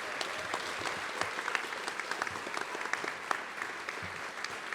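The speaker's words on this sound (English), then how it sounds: "how about another round of applause for all of our award winners this evening" An awards ceremony audience applauds the winners of a police department's Unit of the Year and Meritorious Unit awards, a steady, dense clapping that fills the room throughout with only scattered murmurs.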